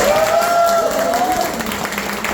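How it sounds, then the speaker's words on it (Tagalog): Applause from a crowd at a product presentation, a loud, steady patter of clapping with a faint whistle-like tone sliding through it early on. "Wala bang palakpak dyan?"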